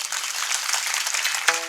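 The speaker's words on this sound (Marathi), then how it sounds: "आपण जोरात टाळी एकदा." An audience claps loudly and steadily during a devotional kirtan discourse, with a dense wash of applause lasting the whole moment and a short vocal sound near the end.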